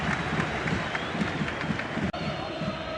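Stadium crowd in a football match between Beşiktaş and Barcelona applauding a player, a steady distant roar of clapping beneath a commentator's voice.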